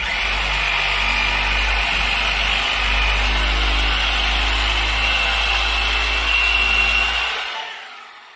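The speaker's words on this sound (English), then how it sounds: "Seems like the Sawzall is working pretty good." A Sawzall reciprocating saw cuts steadily and loudly up close while working on a Toyota Tacoma's air springs and cradle, a continuous buzzing drone that runs for several seconds before winding down and stopping.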